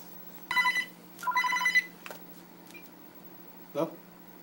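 A cell phone rings inside a store security office in two short, bright electronic bursts close together, followed by a few faint clicks against a quiet background hum.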